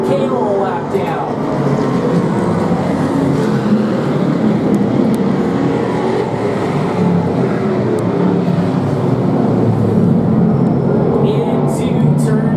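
Race cars roar around a turn of an oval track in a continuous, loud engine drone that layers several vehicles at once, with a race commentator talking over it.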